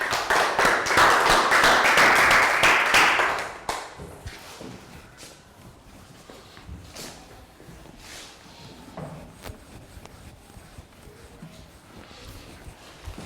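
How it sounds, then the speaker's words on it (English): Classmates clap for a student in a Year 3 math lesson, a dense burst of applause lasting about three and a half seconds before fading into quiet room noise with scattered taps and knocks. "Rounds of applause for Pat."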